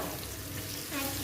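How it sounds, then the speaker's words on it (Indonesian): Bitter gourd stir-frying in a pan, a brief, fairly quiet sizzle with a light stirring scrape near the end. "Nah, ini kita tumis parenya."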